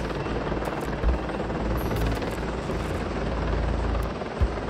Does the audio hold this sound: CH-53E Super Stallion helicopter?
yes